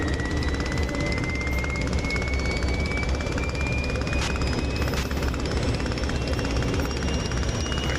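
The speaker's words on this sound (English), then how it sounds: "I think that jet whining noise that you guys hear just like that is this thing over my starboard shoulder" A steady, loud whining drone from a Sopwith Camel in the DCS flight simulator, with a constant engine roar and a thin high tone that climbs slowly, continuous throughout with no talk.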